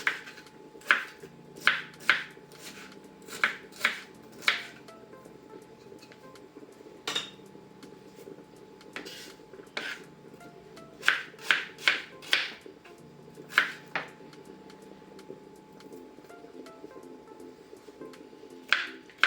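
Knife chopping onion on a cutting board in a home kitchen, a series of sharp, close wooden taps in quick bursts with short pauses, alone without talk over a faint steady background hum.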